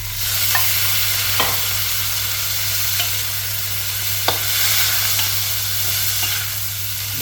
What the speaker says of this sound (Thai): เสร็จแล้วก็เอาใบพายลงไปผัดค่ะ